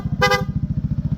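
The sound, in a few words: Honda PCX160 scooter horn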